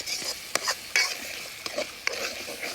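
Ground masala stirred into a crab curry frying in a pot, with several sharp spoon scrapes and clacks against the pot over a steady sizzle, close-up and without talk.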